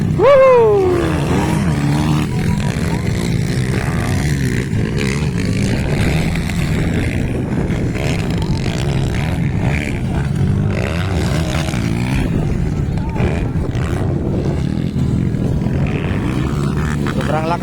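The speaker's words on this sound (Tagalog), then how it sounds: "Sobrang lakas ng motor ni Klang-Klang abar-abar" Enduro racing motorcycle engine roaring loudly and continuously during a local enduro race in Banga, South Cotabato, with a rising rev at the start and excited commentary over it.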